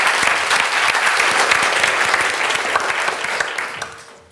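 Sustained audience applause at an evening civic talk on city planning and population growth, a dense steady clapping that stays loud for several seconds before thinning and fading out at the end.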